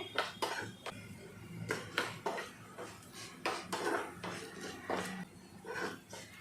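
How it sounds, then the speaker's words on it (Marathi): Urad dal sautéed in a pan, a steady series of spatula scrapes and clinks against the pan, close and moderately loud, repeating roughly every half second. "आपल्या डाळ छानपैकी इथं परतवून घ्यायचे"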